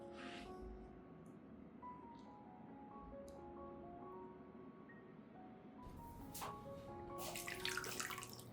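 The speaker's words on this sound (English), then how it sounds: "I'll water the solution gently around the base, ensuring nutrients soak evenly into the soil" Onion solution is poured gently into the soil around the base of an anthurium plant, a faint, soft trickle of water that grows into a louder splashing pour near the end.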